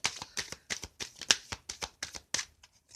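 Dice tossed and rattling during an oracle reading, a quick run of sharp clattering clicks that tumble and bounce for about three seconds, close and fairly quiet with no talking.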